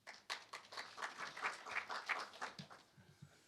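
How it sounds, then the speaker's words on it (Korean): Audience applause welcoming a speaker at a forum on quantum science technology, a brief run of scattered claps heard faintly at a distance. "큰 박수로 모시겠습니다."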